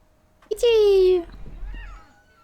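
Cat in the video game What Remains of Edith Finch giving a single clear, close meow with a falling pitch, followed by a faint quieter trailing sound.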